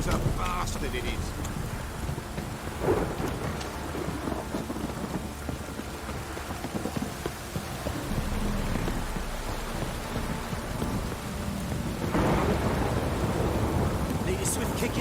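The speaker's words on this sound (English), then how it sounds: "This downpour's a bastard," A steady downpour in Witcher 3 hisses and patters on surfaces, with thunder rumbling low beneath it and the rain surging louder near the end, while voices speak under the noise.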